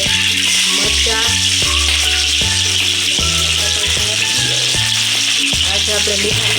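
Mustard seeds and chillies crackle and sizzle loudly in hot oil, a dense continuous spitting hiss with rhythmic lower thumps running throughout, close and unbroken.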